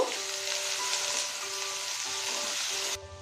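Fish in mustard and green chili paste sizzles steadily in a hot pan while it is stirred, with soft scraping under the frying hiss. The sound continues for about three seconds and then cuts off abruptly.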